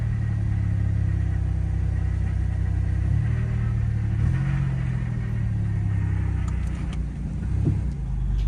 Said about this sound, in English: Look how high it's revving in drive.